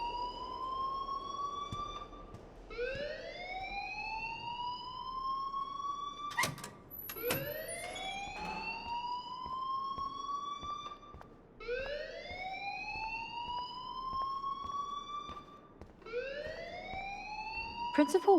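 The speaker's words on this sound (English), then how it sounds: "please turn off that alarm since that's your job" A school alarm in the video game Life is Strange wails in rising siren sweeps that repeat every few seconds, loud and continuous, with talking voices over it.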